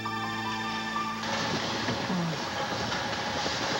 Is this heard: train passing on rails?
yes